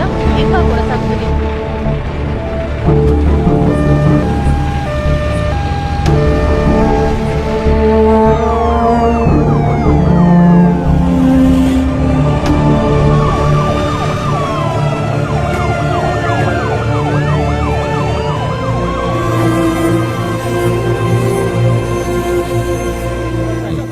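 Ambulance siren at a bridge collapse rescue site in a movie scene, rising and falling tones wailing steadily over a dense music and crowd backdrop, with people talking throughout.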